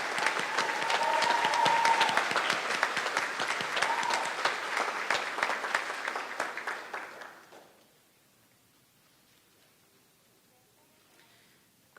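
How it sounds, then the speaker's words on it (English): Audience at a high school graduation ceremony applauds faculty, a full burst of clapping that fades out after about seven seconds into near silence. "please, give them a round of applause, our Team Eagle faculty sitting over to the side there"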